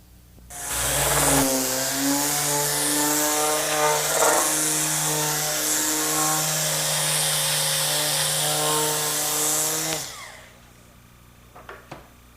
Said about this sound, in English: I've just about wrapped up the orbital sanding with the 1/6 sheet sander on this door